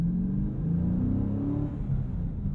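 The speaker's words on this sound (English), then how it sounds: "You gotta love the HEMI noise." A Dodge Challenger Swinger with a manual gearbox and HEMI V8 rumbles steadily from inside the cabin at low speed, a deep, continuous engine drone that swells slightly as it pulls, with no talk over it.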